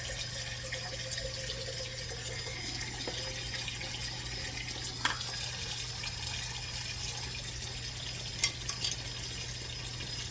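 Water from a tap running steadily into a container in a home kitchen while making cinnamon raisin English muffins, a constant close hiss with a low hum and a couple of faint clinks, no voices.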